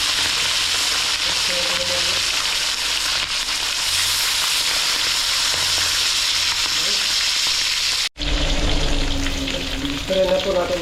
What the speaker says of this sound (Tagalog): Prito na tayo mga toto.